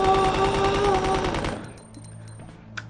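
Rapid automatic gunfire aimed at Mr. X in Resident Evil 2 rattles loud and dense for about a second and a half, then cuts off, leaving a quieter tail with a faint click near the end.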